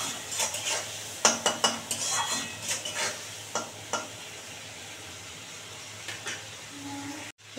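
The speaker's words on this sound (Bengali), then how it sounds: "একদম ভালো করে ভাজা ভাজা করে নেব" Prawns frying in a pan with salt and turmeric, stirred with a utensil that scrapes and clinks against the metal in irregular bursts over a soft background sizzle, close up with no talking.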